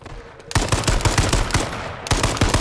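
Close, loud automatic gunfire in the video game H1Z1: a brief single shot, then a rapid stream of shots that stops briefly before another burst.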